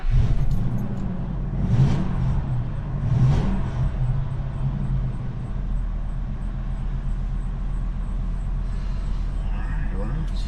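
A 2001 Fleetwood Southwind 35S motorhome engine turns over and settles into a deep, steady idle rumble, with some rattling near the start and voices in the background.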